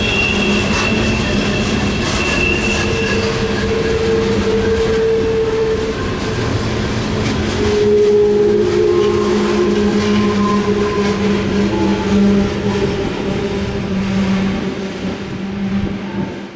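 A heavy Norfolk Southern freight train rolls past in snowy country on the Christiansburg District, a loud, steady rumble of wheels and cars with clattering and sustained horn-like tones that carries on alone throughout.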